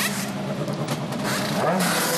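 A DTM touring race car in the Red Bull Cola livery roars loudly in the pits during the 2010 race at Valencia's Ricardo Tormo circuit, its engine revving close and continuous with no talk.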